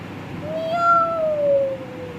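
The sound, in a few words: cat meowing outside the window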